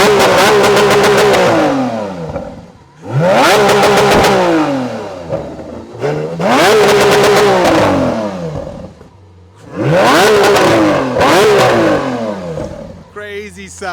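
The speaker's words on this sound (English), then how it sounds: "We will be starting up the Aventador SVJ first, and I have to say the sound is amazing." Lamborghini Aventador SVJ V12 engine fired up and revved hard in four loud, close bursts, each rising sharply then falling back toward idle, with a brief clatter at the end.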